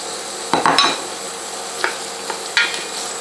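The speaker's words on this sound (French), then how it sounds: "L'huile commence à être chaude, on va pouvoir mettre nos oignons." Onions going into hot oil for a ratatouille: a few sharp clatters and bursts of sizzling against a steady hiss of frying, close and fairly loud.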